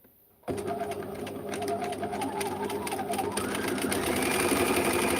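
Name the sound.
sewing machine sewing a serpentine stitch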